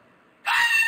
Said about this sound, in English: That is literally the noise that a fucking fox makes.